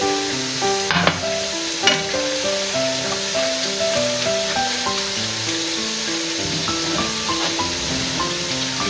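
Spices tipped into golden frying ginger and garlic in a pot for nihari, giving a steady loud sizzle with stirring scrapes and a couple of sharp clinks, heard alone.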